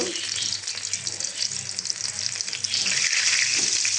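Singaras (samosas) deep-frying in hot oil, a steady dense sizzle and crackle that grows louder toward the end, with faint low kitchen clatter underneath and no talking.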